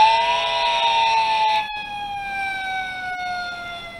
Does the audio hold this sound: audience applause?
no